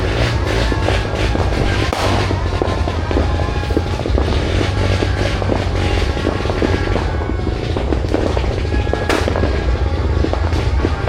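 Fireworks crackle and pop continuously in a dense, loud wash, with a steady low rumble underneath and sharper bangs now and then.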